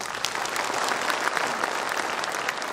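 An audience at a school event claps loudly and steadily, a dense wash of applause holding for the whole stretch with no voices over it.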